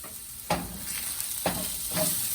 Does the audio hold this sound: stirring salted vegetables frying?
yes